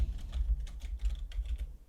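Quick bursts of typing on a computer keyboard, keys clicking in uneven clusters at close range with no one talking.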